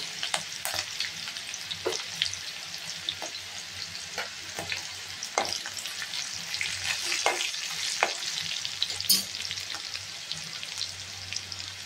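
Cumin seeds frying in hot oil with chillies for a Maharashtrian moth bean usal, a steady close crackling sizzle broken by sharper pops and occasional stirring scrapes, no voices.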